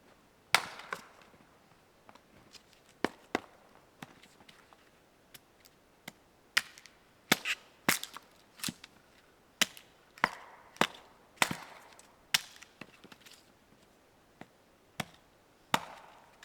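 Wood being split into kindling outdoors at a winter cabin in the boreal forest: sharp, irregular axe chops, some loud and near, others softer, separated by short quiet pauses.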